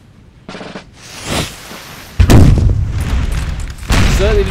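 Cannon artillery fire in Napoleon Total War: several deep, heavy booms in succession, some rolling into sustained rumbling volleys, loud and close, with distant battle noise between the blasts.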